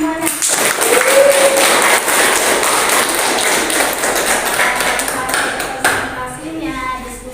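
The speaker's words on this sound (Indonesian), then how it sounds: "kita beri tepuk tangan semuanya" Classroom applause from students, heard as scattered taps and thumps of clapping hands mixed with voices, fairly loud and steady before tapering off near the end.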